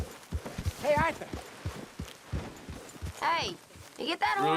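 Horse hooves clip-clopping in the video game Red Dead Redemption 2, a run of close, uneven hoof thuds under loud talking voices.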